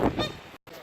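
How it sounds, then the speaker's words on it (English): An angry goose lets out a couple of loud, harsh honks close by, the calls clipped and breaking off into a short silence. "That is one naughty goose."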